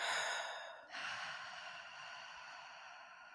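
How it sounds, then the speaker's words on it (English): Slow, deep human breathing during a guided meditation, one long airy exhale that ends, then a fresh breath drawn in and slowly released, close and quiet. "Let's take a few more nice deep inhales here."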